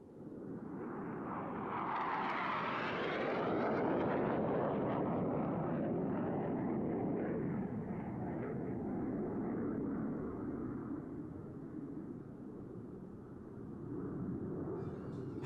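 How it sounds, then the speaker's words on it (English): Blue Angels 5 and 6 jets approaching the flight line at 400 mph at the Reno airshow, a swelling roar of jet engines that peaks early then holds as a broad, distant rumbling wash. "From behind the spectator area, Blue Angels 5 and 6 are approaching the flight line at 400 miles per hour."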